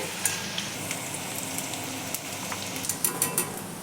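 Oil sizzles and crackles as bitter gourd fries in a pan, a soft continuous frying hiss with scattered sharp pops throughout, close and fairly quiet.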